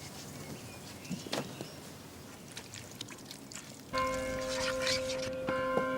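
Church bells ring from a cathedral with several towers, heard at a distance outdoors; after a few seconds a sustained, ringing bell tone swells up and holds steady, with faint ambient noise earlier.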